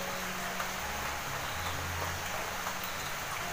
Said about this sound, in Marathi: पाऊस पण जोरात आला बघ.